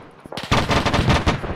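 A rapid burst of close, loud machine-gun fire rattles in a World War II battle game set at Salerno, preceded by a few quicker, lighter shots.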